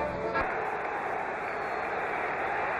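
A football stadium crowd at a 1977 Dallas at Pittsburgh game roars steadily in cheers for punter Bobby Walden, a dense, sustained wash of fans with a brief thump near the start.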